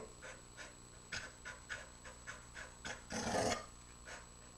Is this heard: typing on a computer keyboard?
no